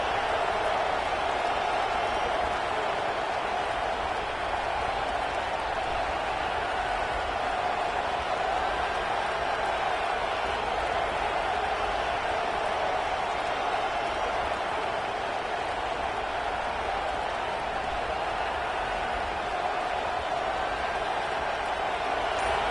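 Steady, dense roar of a large football stadium crowd cheering on its defense during a college football game, continuous and distant-sounding throughout with no individual voices standing out.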